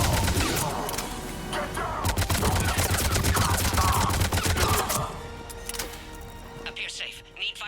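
Dense, rapid gunfire from a Mass Effect 3 firefight, with bursts of automatic weapons and heavy impacts that stay loud and continuous for most of the stretch before thinning toward the end, under a battle score.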